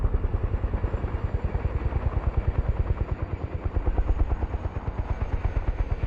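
Helicopter engine and rotor in Microsoft Flight Simulator as the throttle is dialed back, a loud steady rhythmic thudding of rotor blades over a constant engine drone, close and continuous throughout.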